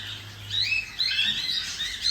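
Pet budgies in a flight cage, including a double factor white face parakeet, chirp and tweet in quick high bursts against a faint background hiss.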